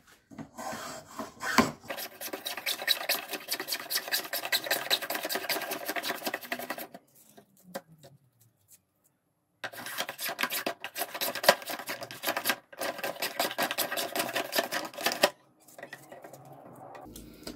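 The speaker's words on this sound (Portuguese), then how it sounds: "pegar a plana e dar uma, uma chanfradinha aqui" A hand plane shaves a chamfer along a wooden piece clamped in a homemade sharpening jig, giving repeated rasping strokes in long close runs, broken by brief pauses.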